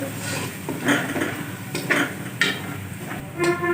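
A metal spoon clinks and scrapes against a pan as garlic paste and ginger powder are stirred and fried, with irregular clattering hits over a soft sizzle.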